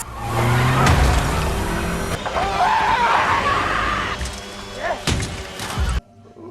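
Scene from the horror film Barbarian where a car runs someone over: a loud engine roar with tires and a heavy impact, laced with screaming and shouting, ending abruptly in near silence.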